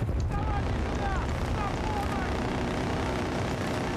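Helicopter rotor roar in the multiplayer shooter Battlefield Bad Company 2, a dense, constant, loud engine and blade rumble filling the whole stretch, with faint gliding tonal sounds and a voice talking underneath.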